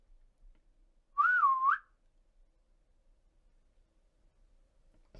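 A single short whistle rises and dips in a wavy tune, clear and fairly close, surrounded by near silence.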